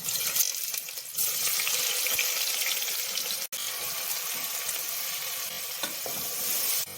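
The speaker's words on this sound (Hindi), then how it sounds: "ऑयल गरम हो चुका है। अब प्याज डाल लेंगे।" Sliced onions sizzle in hot oil and ghee while a mutton khichda (haleem) is being cooked. A steady loud frying hiss runs throughout with a brief break midway, and no one speaks.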